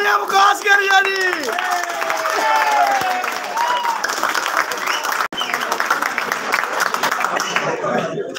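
A crowd at a snooker club championship final applauds and cheers loudly, with excited shouts and whoops over the clapping, fading to sustained clapping.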